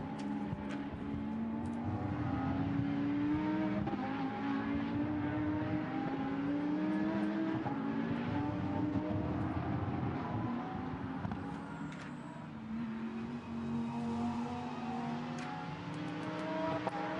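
A Lamborghini Super Trofeo race car at the Nürburgring heading downhill, its engine droning loud and steady throughout with shifting pitch as it accelerates, other cars audible nearby, no talk.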